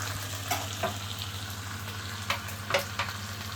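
Bacon frying in a pan for an egg sandwich, a steady crackling sizzle with scattered pops and the occasional clink of a utensil, close and moderately loud with no talking.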